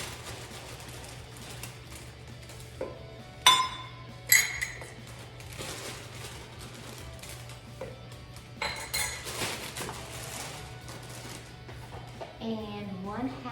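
Oatmeal is stirred in a bowl, a spoon clinking and scraping against the sides in irregular bursts, with a couple of sharper clinks and a low hum behind.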